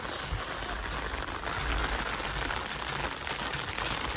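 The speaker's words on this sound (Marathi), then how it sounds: "पाऊस चालू आहे मस्तपैकी" Steady rain pours down, a continuous close hiss of drops hitting surfaces, with no voices.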